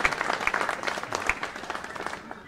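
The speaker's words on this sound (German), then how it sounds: "Da klatschen es die Mönche" Monks clapping in a church during a Benedictine feast-day service, a steady patter of applause lasting a couple of seconds and fading toward the end, moderately near.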